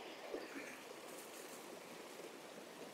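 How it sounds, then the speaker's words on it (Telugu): Water rushing steadily down a hillside waterfall stream at Bayyaram in Telangana, a constant broadband wash heard fairly close and faint, with no speech. "సో వాటర్ సౌండ్ అయితే మస్తు అనిపిస్తుంది"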